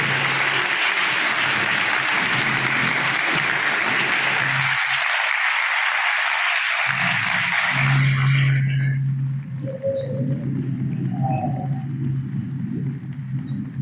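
Loud, sustained applause from a large crowd fills the room, thinning slightly toward the end as clapping continues.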